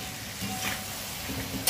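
Pre-fried chicken liver simmers with a touch of sugar in a pan, a close, steady sizzle broken by scraping stir strokes, with a brief louder clatter at the end.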